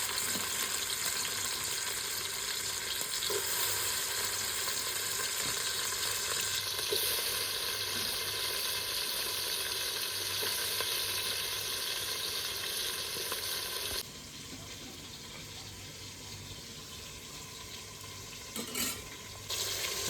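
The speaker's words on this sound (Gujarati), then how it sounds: "હાલો ભાઈ નાખ્યું છે તેલ હાલો ભાઈ હવે નાખવાનું છે ડુંગળી" Chopped onion frying in hot oil, a steady loud sizzle that runs without a break and fades slightly toward the end, with no talking over it.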